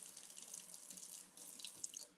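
Hot water running steadily from a kitchen tap into a sink, a continuous close hiss and splash with no talking.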